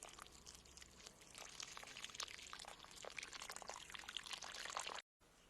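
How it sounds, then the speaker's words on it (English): Water poured onto a potted Aganosma plant in fresh potting mix, a close, continuous splashing and trickling that runs for about five seconds before stopping abruptly. "Now I am watering the plant."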